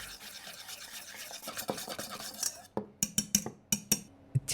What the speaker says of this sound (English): Mix up 3 medium-sized yolks, brown sugar, and a pinch of salt together.